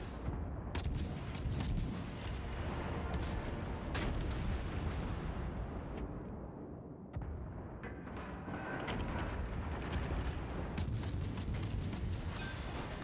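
Naval gun volleys traded in World of Warships, with booming, rumbling broadband fire and scattered sharp cracks rolling continuously over about thirteen seconds, distant and layered rather than punchy.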